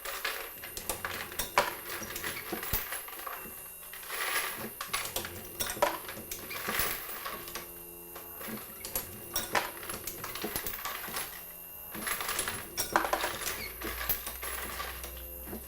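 A Dillon RT-1500 case trimmer powered by a motor trims .223 brass cases, producing a background whir under sharp metallic clinks and rattles as cases feed through and drop, repeating irregularly at close range.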